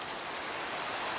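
Steady rain in the Minecraft SevTech Ages modpack, a close, even hiss of falling water with no breaks across the short stretch.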